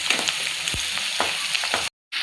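Plenty of onions frying in a pan for okra gojju, sizzling steadily and loudly up close with a few stirring scrapes, then a brief cut to silence before the crackle resumes.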